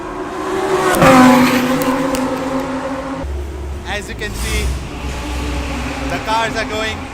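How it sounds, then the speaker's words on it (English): Race cars and other modified sports cars drive on and off the track at a track day event, engines revving and passing at mid distance, with a loud swelling pass early on and people talking over the engine noise. "cars are going in and out on the track"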